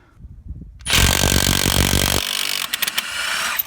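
A Milwaukee mid-torque impact wrench hammers on the crank bolt of a 1992 Honda Accord. It bursts into a loud, rapid rattling for about a second, then drops to a whirring spin with a few short, sharp blips.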